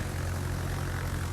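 Droning propeller aircraft engines fill World of Warships combat, a steady loud hum with a strong low rumble and no breaks, heard without talk.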